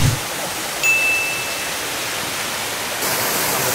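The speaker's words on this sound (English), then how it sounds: "So we made it to the bottom of the waterfall." Olinda Falls waterfall near Melbourne, a constant loud rushing hiss of falling water, steady and close, briefly joined by a faint high tone.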